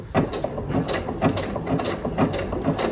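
A sewing machine running a zigzag stitch through thrifted tablecloth fabric, a steady close mechanical clatter of needle and gears pulsing in quick repeated bursts, with no talking.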